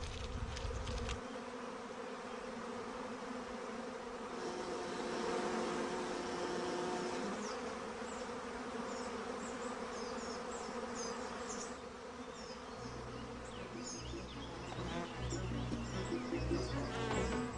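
A dense swarm of honey bees clustered around their queen gives a continuous, loud buzzing drone with shifting layers of wingbeat hum and no voices.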